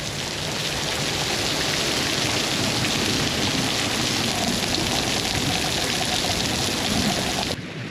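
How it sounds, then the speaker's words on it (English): Steady rain mixed with hail pours down outside a shelter at Rondeau Provincial Park, a dense, even hiss of drops hitting surfaces that runs unbroken for the whole stretch before dropping away abruptly at the very end. "There's now hail."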